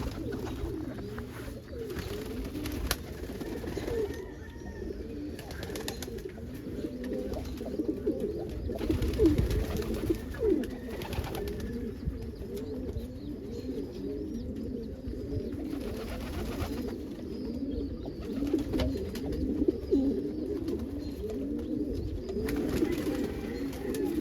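Red check pigeons coo continuously, close and layered, in a loft on a windy morning, with a steady low murmur of overlapping calls throughout.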